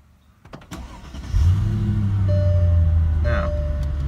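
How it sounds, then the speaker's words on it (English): A Mercedes-Benz S55 AMG engine cranks over and catches, rising into a loud, steady idle that rumbles on close by after a short starter whirr, with a brief electric whine near the end. "Now, let me start the car real quick."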